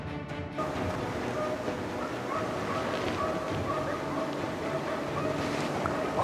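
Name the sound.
hunting dogs barking during wild boar drive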